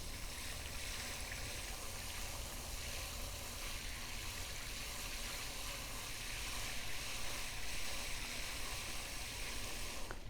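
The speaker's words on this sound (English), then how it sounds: "add some water just to saturate the hole" Water pours steadily into a dug post hole prepared with fast-setting concrete mix outdoors, a faint continuous splashing and trickling wash lasting about ten seconds with no speech.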